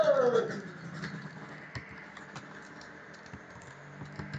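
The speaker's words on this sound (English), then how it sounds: "we can type h1" Keys on a computer keyboard click in a short, faint, irregular run of taps close by in a quiet room.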